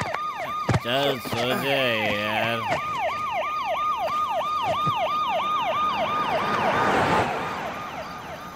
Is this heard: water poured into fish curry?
no